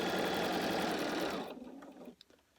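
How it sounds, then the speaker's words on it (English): A sewing machine runs fast and steady while stitching quilt pieces for a pumpkin pattern, then slows and stops, leaving a few faint clicks and handling sounds. "And then I just keep sewing."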